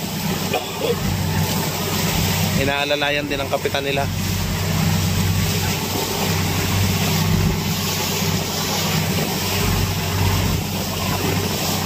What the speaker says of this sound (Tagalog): Naka-andar makina nila oh.